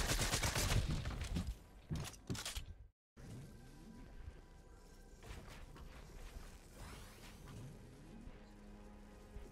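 Shotgun blasts and rapid gunfire in a Fortnite match, a cluster of sharp loud bursts early on, then a brief dropout before scattered game effects and more shots continue.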